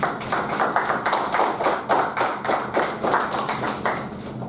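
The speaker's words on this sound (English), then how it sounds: "Round of applause to Toastmaster Shamla" A roomful of Toastmasters meeting attendees applauds together, sharp overlapping hand claps pulsing in a lively, uneven rhythm for several seconds at close range.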